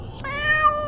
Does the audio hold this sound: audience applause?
no